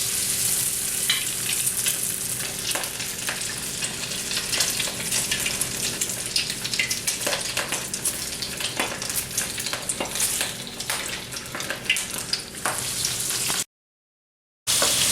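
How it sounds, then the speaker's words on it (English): Arancini coated in panko crumbs frying in hot cooking oil, a continuous dense crackling sizzle with many sharp pops, close and steady throughout, with a brief gap near the end. "quickly but gently dip it into your hot cooking oil right over here"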